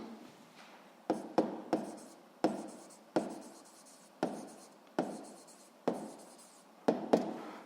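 Chalk or marker tapping and scraping on a board while a physics equation is written out, about a dozen sharp strokes each trailing off, close and clear with no talk.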